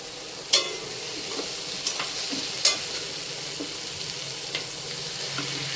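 Ground spices with coriander and chili powder are stir-fried in a pan for a prawn curry with ol stalks, giving a steady sizzle broken by several sharp scrapes and taps of a spatula, close up and without talk.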